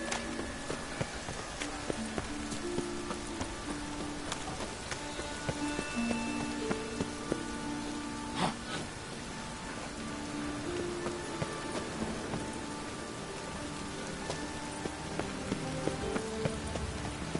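Steady rain in the video game The Witcher 3: Wild Hunt patters continuously with scattered drip ticks and faint tonal hums in the background, even and unbroken throughout.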